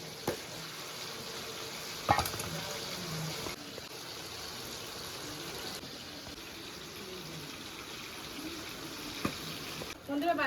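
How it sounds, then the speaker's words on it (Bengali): Tengra fish frying in hot oil in a pan, a continuous dense crackling sizzle throughout, with a few sharp pops and clicks of handling. "বাদ বাকি মাছগুলো ভেজে নিচ্ছি"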